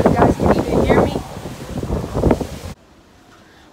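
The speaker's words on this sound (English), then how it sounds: "Man, it's so windy out here, so noisy" Strong wind buffets the microphone on the deck of an MSC cruise ship, over a loud, low engine rumble. A person speaks through the gusts before the sound cuts abruptly to near silence.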